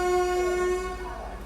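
A Vande Bharat Express sounds its departure horn, a loud, steady tonal blast close by that holds for over a second before easing off slightly.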